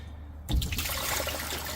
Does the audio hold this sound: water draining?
yes